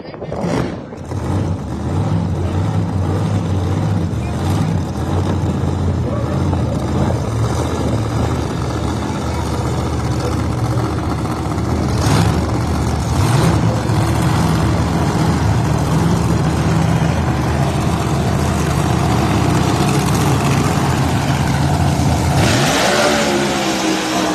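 Outlaw ProMod drag racing cars at Empire Dragway fire up for a Northeast Outlaw ProMod Association round, engines rumbling and revving loudly and continuously with a rising surge near the end.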